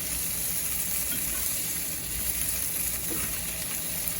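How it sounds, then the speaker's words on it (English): Chorizo and diced potatoes frying in a pan, a steady dense sizzle and crackle held close and constant throughout, with faint stirring scrapes and no talking. "Now in goes the chorizo."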